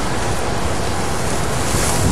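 A rotary radial engine turns a 3532 propeller at about 2700 RPM, heard as a loud, continuous, close roar with wind-like buffeting from the prop blast.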